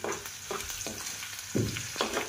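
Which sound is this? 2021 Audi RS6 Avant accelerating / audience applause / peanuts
peanuts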